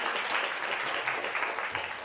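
An audience at an evening recital applauds with steady, fairly quiet clapping that continues across the whole moment, with no one speaking over it.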